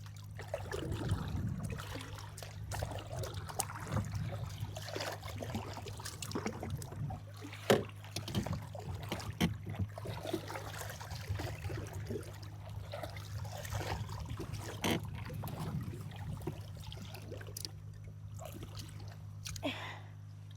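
A paddle works a boat on a lake, with soft splashes and trickling water close by, occasional knocks against the hull and a low steady hum underneath.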